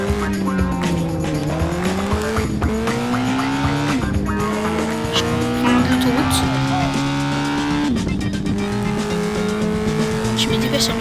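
A rare car is driven fast while escaping police in Gangstar IV, its engine rising and falling through gear changes, with squealing tires and skidding over a loud, busy stretch.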